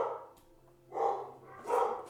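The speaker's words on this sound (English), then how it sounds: "Sorry for the dogs." Dogs bark indoors in two loud bursts, one around the middle and one near the end, with a quieter stretch before them.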